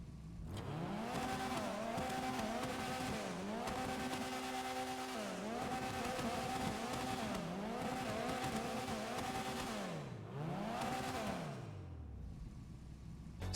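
A Vapid GB200 rally car in GTA Online revs hard through repeated gear shifts. The engine note climbs and drops in a steady cycle, with faint tire noise underneath. The car stays loud and close throughout, and no one speaks.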